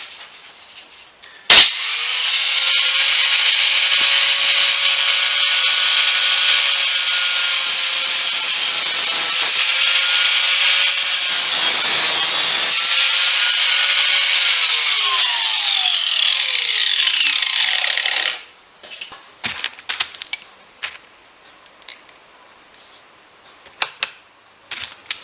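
A power cutting tool chops down bolts on a 2003 Jeep Cherokee Liberty KJ differential cover, making a loud, continuous harsh grinding whine for about seventeen seconds that changes pitch midway and then stops, followed by scattered clicks and knocks.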